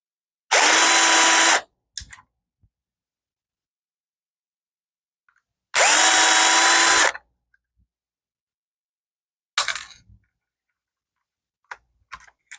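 Power screwdriver backing screws out of a Sony Vaio laptop during a teardown: two loud, close, whirring bursts of about a second each, separated by silence, followed by a shorter burst and faint clicks of handling.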